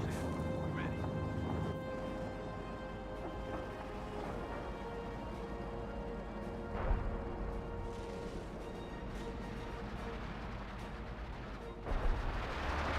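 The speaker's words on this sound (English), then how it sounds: "Artillery barrage" Artillery barrage in the video game Company of Heroes 2, a continuous low rumble of distant shelling with a few sharper blasts standing out, heard faintly under a voice talking.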